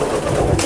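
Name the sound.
Rampuri pigeons cooing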